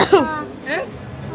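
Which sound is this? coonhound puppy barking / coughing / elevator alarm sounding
coughing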